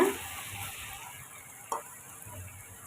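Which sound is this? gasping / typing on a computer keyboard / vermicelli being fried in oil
vermicelli being fried in oil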